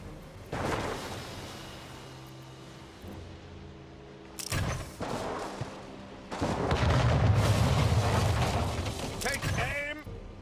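Ship cannons fire in the Anno 1800 strategy game. Heavy booming blasts come in separate bursts, then a longer rumbling barrage, loud and close over a low background hum.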